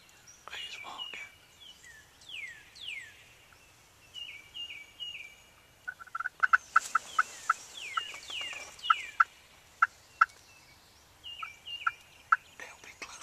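Wild turkeys calling during a hunt in Marlboro County, South Carolina, with repeated sharp yelps and clucks plus gobble-like bursts in quiet woods, some moderately close, the calls coming in a rapid series.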